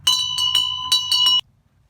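A metal bell rings in quick, bright strikes, roughly six clanging hits in two bursts that ring on briefly, then cuts off to near silence.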